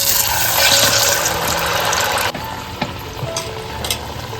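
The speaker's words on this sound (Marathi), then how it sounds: "फक्त तेल पण आपलं एकदम मस्त तापलेलं आहे त्याच्यामुळे ना आपले वडे मस्त फुगत आहेत" Chicken vadas, a Maharashtrian fried dough, crackle and sizzle steadily in very hot oil, a loud dense frying hiss throughout with a few small pops and stirring clinks in the second half; no talk.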